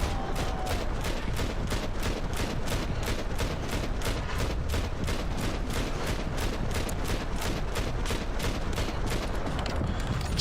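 Gunfire in Max Payne 3 rattles out as a steady stream of rapid, evenly spaced loud shots that continue throughout without pause.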